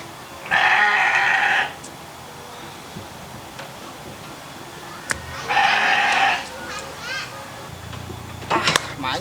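Sheep and goats bleat in a pen, two loud bursts of bleating about four seconds apart with a few shorter calls between and near the end, set against quiet farmyard background.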